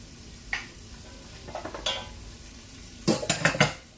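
Bell pepper and onion slices stirred together in a pan: a few scattered scrapes and clinks, then a quick burst of louder knocks of utensil against pan near the end, with no talk.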